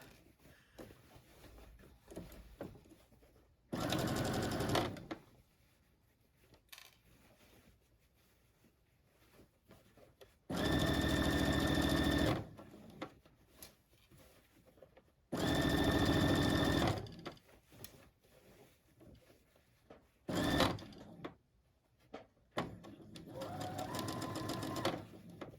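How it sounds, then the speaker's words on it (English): A sewing machine stitches fabric in four loud, close bursts of rapid mechanical whirring, each lasting a couple of seconds, separated by quiet pauses with faint handling noise. "I might sew over a pin when I'm doing this, but I want to keep it flat"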